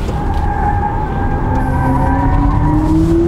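A BMW iX3 M Sport electric SUV braking hard, heard as a loud, steady road and tyre roar with a rising whine, close and continuous for a few seconds.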